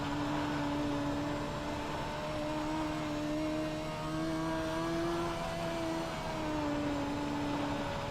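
Midget race car in the iRacing sim on Knoxville's dirt oval during a qualifying lap, engine whine rising and falling steadily through the corners, moderate and uninterrupted, with no talking.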